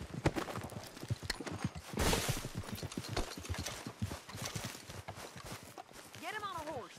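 Horse hooves clip-clop on the ground in the Western video game Red Dead Redemption 2, a quick steady walking rhythm close by, under frequent character talk, with a short whinny near the end.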